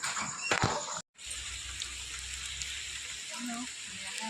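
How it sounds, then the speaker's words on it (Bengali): Dense, steady patter of heavy rain in a storm outside fills the scene, with a brief clatter near the start and a short dropout, then constant rainfall. "বাইরে বৃষ্টি ঝড় শুরু হয়ে গেছে"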